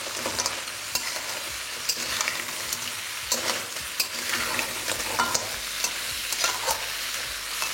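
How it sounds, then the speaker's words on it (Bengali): Crab pieces fry in a little oil over a high flame, a bright, constant sizzle broken by frequent scraping strokes of a spatula stirring the pan, close up with no speech. "এই অল্প একটু তেলে এটাকে আমি আলাদা করেই আগে ভেজে নিচ্ছি"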